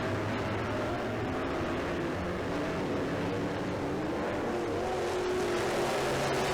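Race cars roar around a track on the last laps, engines droning loud and continuous as the pack runs together, a dense unbroken rumble of motors without clear pauses.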